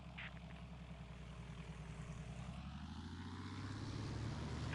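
A propeller airplane engine in the War Thunder video game drones steadily and close, a thick rumbling buzz that grows slightly louder toward the end, with no voices.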